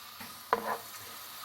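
Minced meat sizzles quietly in a pan, broken by a couple of sharp scraping stirs of a spatula.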